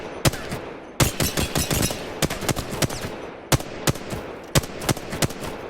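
Rapid gunfire at targets in the video game Apex Legends, sharp cracks arriving in quick bursts and single shots in an uneven rhythm, fairly close and moderately loud with no talk.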